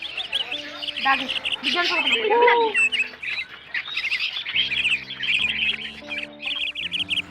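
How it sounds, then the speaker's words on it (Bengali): Various colourful birds calling at Garchumuk zoo, a busy mix of chirps, tweets and squawks with some duck-like quacks, while people talk nearby. "নানান ধরনের নানান বর্ণের পাখি এখানে রয়েছে"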